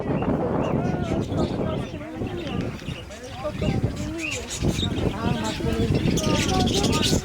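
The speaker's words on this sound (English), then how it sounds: "Oh, they even got little birds." Small caged birds chirp and tweet at a busy open-air market in Almeirim, Portugal, their quick high calls scattered through steady crowd chatter and nearby voices.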